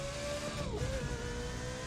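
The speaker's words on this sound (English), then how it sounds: "it's a decent sound that this car makes" A car engine in the video game The Crew 2 drones steadily with a rising and falling pitch, a continuous synthetic-sounding motor hum throughout.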